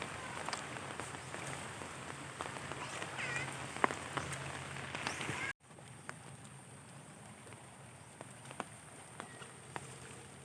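Steady rain patters over a waterlogged rice paddy flooded by nonstop downpour, a dense even hiss with scattered drop taps, softening midway as the sound drops in level.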